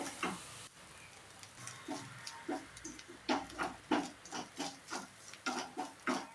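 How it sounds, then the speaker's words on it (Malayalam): Mustard seeds and grated coconut frying in a pan over medium flame, giving a steady sizzle broken by a run of sharp, regular crackles and pops from the seeds, close and fairly loud, with no talking. "നമുക്ക് ഒരു 1/4 കപ്പ് തേങ്ങ ചിരകിയതും കൂടി ചേർത്ത് കൊടുത്ത് ഒന്ന് വറുത്തെടുക്കാം"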